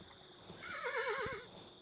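A horse in the video game Kingdom Two Crowns lets out a clear, wavering whinny lasting about a second, set against faint ambient game sound and a few soft hoof thuds.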